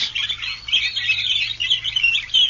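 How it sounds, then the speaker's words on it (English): Birds sing at the Indiana Dunes in a steady, busy chorus of high chirps and trills, fairly close and unbroken, with no voices. "And the birds, the Indiana dunes,"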